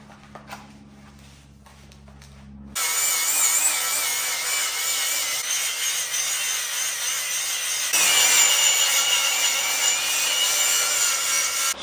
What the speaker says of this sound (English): Now I'm just gonna start cleaning all the bits of metal like this with the grinding disc